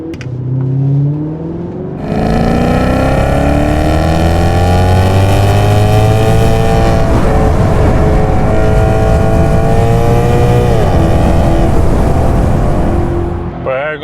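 A Maserati GranTurismo MC Sport Line engine roars loudly in a tunnel as the car accelerates, its pitch climbing through the gears in one continuous rising growl, with a brief shift dip near the end.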